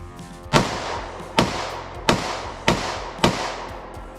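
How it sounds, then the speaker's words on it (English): Five gunshots from a Hi-Point JXP 10mm pistol firing S&B ammunition, sharp loud reports spaced roughly evenly about 0.7 seconds apart, each with a short decaying tail. "5 rounds, S&B. Jxp 10mm from HiPoint."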